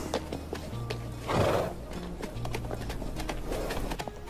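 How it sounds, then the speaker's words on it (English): Horses in the Namibian desert whinny and neigh loudly, a strong neigh rising midway, while hooves clop steadily throughout at close range. "Waxaan u hoggaaminayaa qoyskan fardaha mid kalaba ee lagu magacaabay Stelia"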